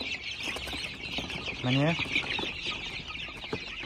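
Chickens and young chicks on a farm clucking and peeping, with a loud nearby squawk in the middle over a busy background of chirps; a person speaks briefly.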